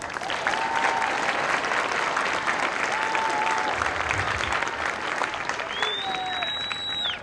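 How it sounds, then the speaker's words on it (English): An audience at an Air Force basic military training graduation ceremony breaks into sustained, dense applause that stays steady and loud, with a few whistles rising over the clapping. "How about we give them a round of applause?"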